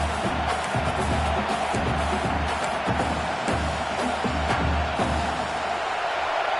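Football stadium crowd roaring steadily on a fourth-down defensive stand, a dense, loud wash of cheering that holds through the whole stretch.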